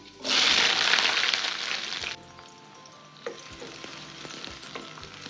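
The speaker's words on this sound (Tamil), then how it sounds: "வெங்காயம் வதங்கட்டும்." Small onions and fenugreek drop into hot sesame oil for a fish curry and burst into a loud sizzle, which then eases to a softer, steady frying crackle with a few light stirring knocks.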